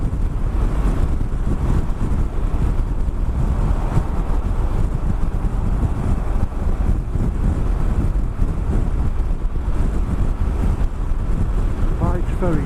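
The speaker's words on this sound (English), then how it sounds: "Screen's at its lowest, getting a bit of buffeting." Constant loud wind roar and buffeting at speed on a Yamaha Super Tenere 1200Z motorcycle with its screen at the lowest setting, a dense rushing noise filling the whole stretch with no breaks.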